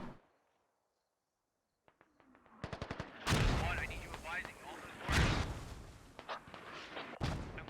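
Mortar and gunfire in a military video game battle, with a run of sharp shots building into several loud booming blasts after a quiet opening, close and heavy, with a voice talking over the combat.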